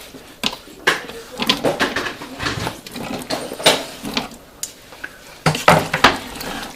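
Flageolet beans and potatoes tumble into a cooking pot of pork stew, a series of close clinks, knocks and soft thuds against the metal in an irregular rhythm.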